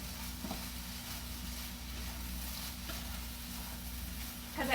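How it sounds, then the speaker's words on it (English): Canned chicken stir-fry stirred in a hot pan, a steady close sizzle with faint scraping of the utensil throughout, rising briefly at the end. "Now we're going to stir it all together"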